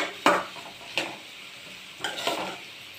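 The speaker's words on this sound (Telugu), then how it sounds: "మంచిగా వేగిపోయింది క్యారెట్." Carrot pieces frying in a pan give a low sizzle beneath a few sharp, close scraping stirs of a spatula against the pan, spaced irregularly, with no talking.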